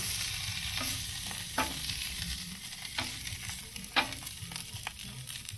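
Food sizzling on a Blackstone griddle in a clams-and-sausage cook, a constant close crackle broken by several scraping spatula flips at irregular intervals, with no talking.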